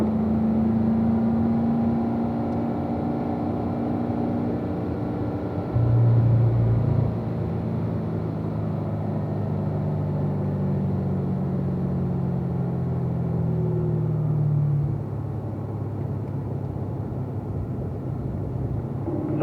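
A race car runs laps on a track, its engine a steady droning rumble heard from inside, rising and falling in pitch as it accelerates off corners, with no talk.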